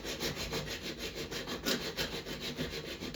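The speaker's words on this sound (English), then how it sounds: "I began by filing off the rounded over section on the back of the blade" Metal file strokes rasp back and forth across the back of a rusty block plane blade, a close, steady rhythm of about a dozen scraping passes with no voices.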